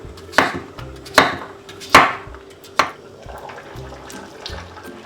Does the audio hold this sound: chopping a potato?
yes